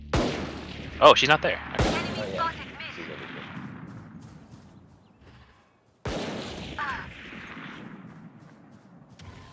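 Valorant gunfire crackles in sharp loud bursts: a cluster of shots at the start, then a quieter lull, then another sudden burst, with a voice talking between them.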